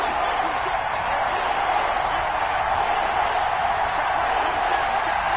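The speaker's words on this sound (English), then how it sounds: "The crowd getting into it as we come up on a big 3rd down." A roaring stadium crowd in the Madden football video game builds ahead of a big third down, a steady dense wash of cheering that fills the whole stretch without a break.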